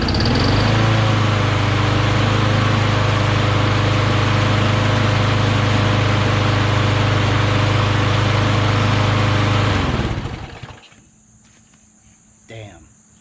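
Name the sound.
lawn mower engine running after priming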